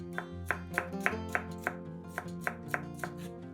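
A knife chops a red sweet pepper into small pieces on a board, about a dozen crisp, evenly spaced cuts sounding over a sustained musical backing.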